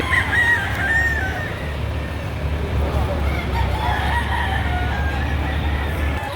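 Roosters crowing at a busy Saturday chicken market in Lipa City, Batangas, several drawn-out crows overlapping close by over clucking fowl and a low murmur of crowd noise.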